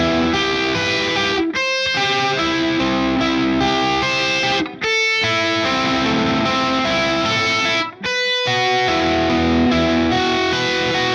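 Loud, fuzzy electric guitar chords strum in a driving pattern, with a couple of brief choked gaps between phrases.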